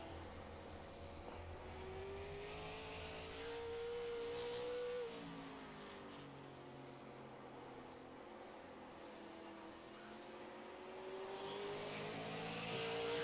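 A race car runs a qualifying lap at Thompson. Its engine note is heard from a distance, with a whine that rises and falls as it passes and a low rumble underneath, fairly faint throughout.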